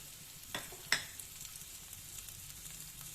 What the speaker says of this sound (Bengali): পেঁয়াজ আর রসুনটা খুব ভালো করে ভাজা হয়ে গেছে